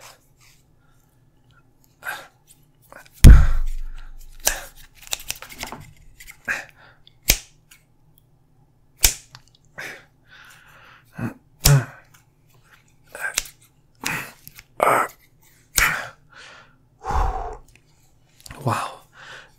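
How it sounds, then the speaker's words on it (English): Scissors snipping during an ASMR role-play scene, a series of short, close, crisp cutting clicks at an irregular pace, with whispered voices between the cuts. "These scissors aren't that effective on a person."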